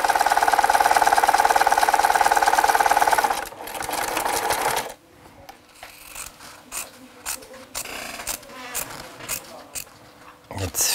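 Sewing machine zigzag-stitching the lining of a handmade men's hat, a loud continuous rattling hum for about five seconds that then cuts off, leaving quieter clicks and handling sounds.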